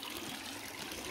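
Faint, steady rush of stream water trickling and flowing around a small dam and pipe, continuous and even with no voices.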